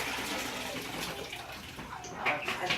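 Water sloshing and pouring in a bucket as the rinse water is changed while grouting a new kitchen floor, a steady close splashing with a few brighter splashes near the end.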